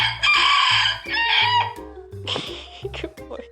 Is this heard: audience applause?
no